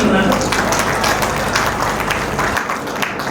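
An audience claps at a Hindi kavi sammelan poetry gathering, a burst of close, dense applause with crowd noise that tapers off near the end.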